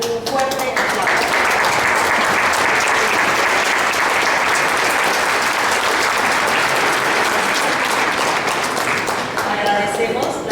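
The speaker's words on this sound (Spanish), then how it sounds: "a quien damos un fuerte aplauso" A large audience at a legal conference in Mexico applauds a speaker with loud, dense, sustained clapping that swells and then thins out over about ten seconds, with no speech on top.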